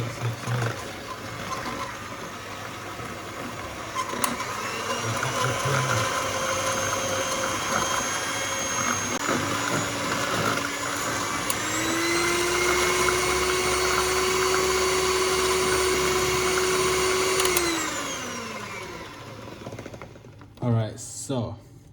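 A stand mixer whirs at full speed through banana bread batter, ramping up to a loud steady whine before winding down at the end, followed by a few clatters.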